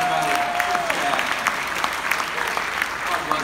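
Audience applause at a morning show event in Goa, steady clapping filling the room for several seconds, with a brief voice heard over it near the start.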